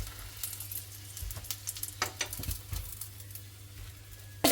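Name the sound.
chicken nuggets frying in a pan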